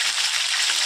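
Chopped onions frying in hot oil with whole cumin seeds: a steady, bright hiss and crackle of sizzling, continuous and moderately loud, with no voices.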